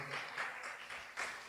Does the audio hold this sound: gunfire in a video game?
no